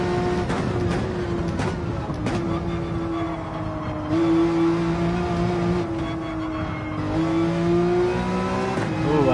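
Race car engine in Gran Turismo 7 sim racing, revving high through the gears with steady rising and falling engine tones, loud and continuous throughout.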